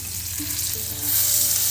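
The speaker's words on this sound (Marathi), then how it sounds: "टोमॅटो जरा परतून घेतो" Onion and tomato sautéing in hot oil in a pan while making a Konkan-style vegetable dish, a steady close sizzle with a brief rise in intensity toward the end, no talking.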